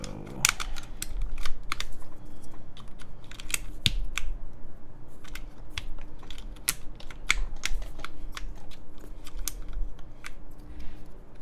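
Steady fast typing on an RAE Adamas 65% mechanical keyboard, top-mounted with no gaskets, a dense close run of sharp clacky keystrokes with occasional louder hits over a low background murmur.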